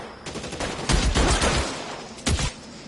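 A close burst of rapid gunfire in the video game L.A. Noire, a dense volley followed by a second short flurry of shots, with no voices over it.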